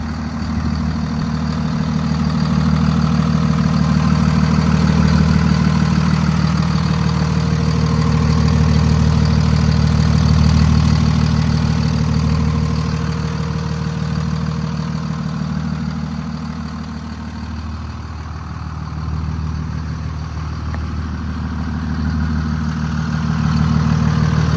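A 2022 Kenworth T270 truck with 103k miles idles steadily for about twenty-five seconds, its engine giving a continuous low rumbling drone that dips slightly in loudness partway through, with no voices.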